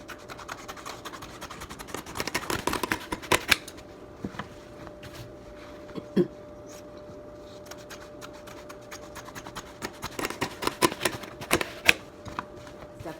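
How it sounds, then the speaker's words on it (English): Scissors snip and scrape through fabric strips for a DIY wall tapestry in sporadic clusters of sharp cuts and rustling, close and fairly quiet against a faint steady hum. "let me go ahead and finish cutting up these strips"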